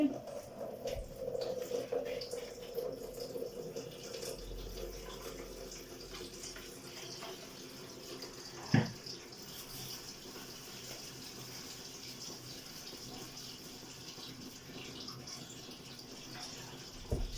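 Water running from a household tap, a steady soft gushing stream that is louder at first then settles into a quieter flow, with a single clunk midway and some faint background voice.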